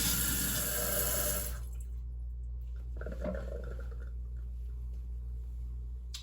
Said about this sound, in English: And water does kind of squirt out here, so cover that up with my hand so it doesn't go all over the place.